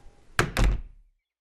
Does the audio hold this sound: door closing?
yes